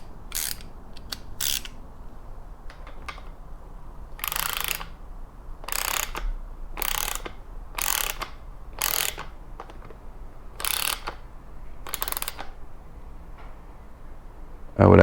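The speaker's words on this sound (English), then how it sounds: "it's time to bust out the torque wrench" Torque wrench ratcheting in sharp, repeated clicks while a Fox 38 mountain bike fork is serviced, about a dozen close bursts spaced irregularly over quiet background.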